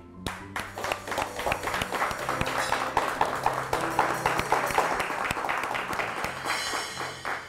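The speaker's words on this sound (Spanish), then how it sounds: "vamos a tener un aplauso grande" Audience clapping for a honored folk musician at a tribute event, many hands applauding in a lively, continuous patter, moderately near and steady throughout without talk.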